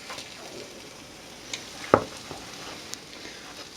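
Mushroom and ham omelette cooking in a pan, a steady soft sizzle and fry with a few light clinks and scrapes, one sharper tap near the middle, close and moderately quiet with no talking.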